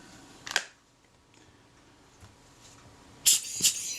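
Shutter of a Zeiss Ikon Contina IIa camera being worked on a bench: a sharp click near the start, then a double click toward the end, with quiet handling between.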